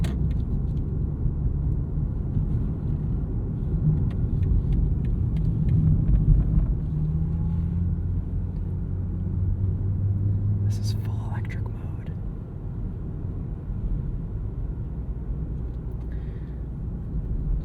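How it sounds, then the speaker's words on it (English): A low, steady electric hum from a 2025 BMW M5 hybrid in electric mode drones under quiet talking, with a faint rising whine partway through and occasional small clicks. "it kind of plays this humming noise, which is quite convincing that it's an engine"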